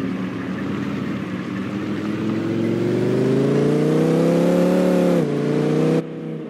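A sports car in Farming Simulator 22 accelerates with a steady engine drone that climbs in pitch over several seconds, then drops briefly as it shifts before cutting off near the end.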